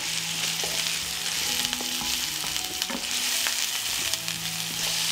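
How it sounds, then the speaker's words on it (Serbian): Onion, carrot and garlic sizzle and fry in hot oil in a pan, a steady close crackle running throughout with occasional stirring scrapes and no talk. "Ulje se zagrejalo i dodajem luk, šargarepu i beli luk. I sve ćemo promešati i propržiti da omekša."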